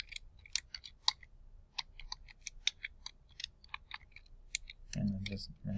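Keys on a computer keyboard click in quick irregular bursts, close and fairly quiet, as text is typed; a low voice murmurs briefly near the end.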